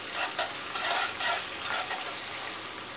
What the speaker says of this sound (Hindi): अब मैं डाल रही हूँ इसमें 1 टेबलस्पून अदरक लहसुन, इसको भी इसके साथ चलाएंगे